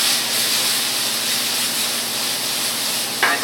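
Vegetables and tomato with a pinch of turmeric sizzle steadily in a hot pan while being sautéed for vegetable fried rice, a continuous close hiss with a brief clatter near the end.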